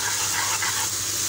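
Onion and spice paste with salt and chili frying in a pan for curry, a steady close sizzle with faint stirring.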